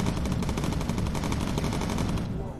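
Heavy bomber machine guns in Bomber Crew, quad .303s and big .50 cals on the waist positions, hammer out a loud, continuous rapid-fire burst that barely lets up for the whole stretch.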